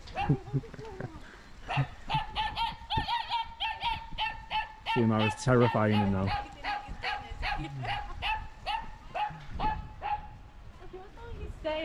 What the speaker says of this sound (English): Is he barking because he's missing you, or he's barking because he doesn't like you?